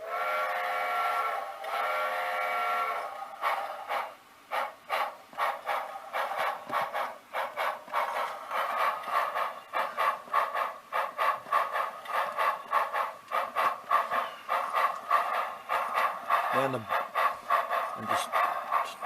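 A Tsunami sound decoder in a Kato model locomotive plays a long steady steam whistle, then rhythmic chuffing exhaust beats that continue steadily with a brief second whistle near the end.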